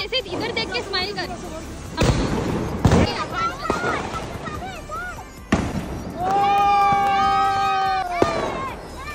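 Diwali firecrackers go off at night, sharp loud bangs and crackling bursts with whistling rockets rising, mixed with excited voices of people nearby.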